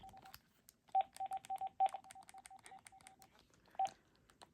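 An AT&T SL82318 phone plays rapid dialing tones: a quick string of short, evenly spaced beeps, close and clean over a quiet background, with a couple of longer tones mixed in.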